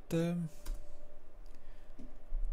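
Computer keyboard keys click in a quick scattered run as a search query is typed, close and fairly faint, following a brief burst of speech at the start.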